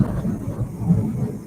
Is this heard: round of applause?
no